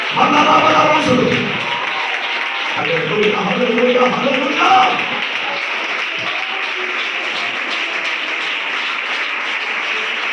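A congregation claps at a church youth revival meeting, a dense steady patter of many hands that runs through the whole stretch beneath voices chanting together.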